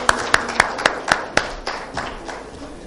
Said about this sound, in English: Give a big round of applause.